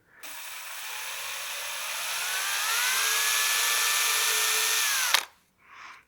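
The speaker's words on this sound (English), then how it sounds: "we'll just drill this basically right to center." A power drill whines steadily, boring a centre hole in a workpiece, its pitch rising slightly as it bores in, then cuts off abruptly, followed by a brief faint whir.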